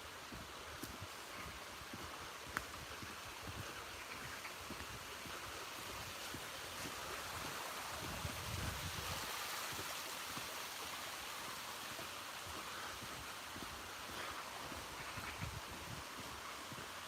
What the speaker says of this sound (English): Love the sound of water.